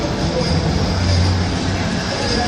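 A Manchester Metrolink tram, an East Didsbury to Manchester Airport service, approaches the Market Street stop with a steady, close rumble and low hum that holds an even loudness throughout.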